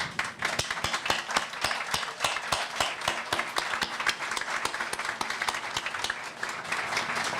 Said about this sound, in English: would you please stand so we can give you a round of applause?